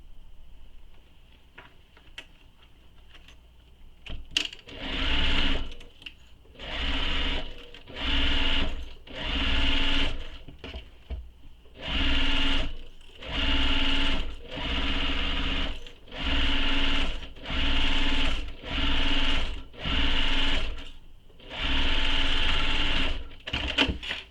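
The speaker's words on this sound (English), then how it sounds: "sewing this with the seam allowance given in the pattern" Home sewing machine stitching a fabric tote bag seam: after a quiet start, a series of about a dozen evenly spaced bursts of fast whirring, each a second or two long, with short pauses between.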